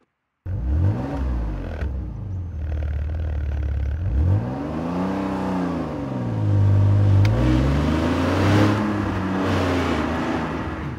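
An early-2000s Alfa Romeo 156 GTA engine revs loud and close, rising and falling through several throttle blips before a longer climbing rev, with no talk.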